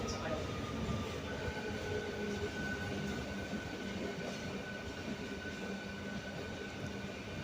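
A MEMU train rolls into Sultanabad station with a steady low rumble and a thin, sustained wheel squeal above it, holding at an even, fairly faint level throughout with muffled voices underneath.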